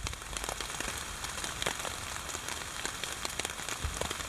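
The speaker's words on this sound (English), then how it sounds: "I think you can hear the rain pitter-patting on the tarp" Rain patters steadily on a camping tarp along a forest trail, a dense, even spray of soft drops with occasional louder taps, close and continuous.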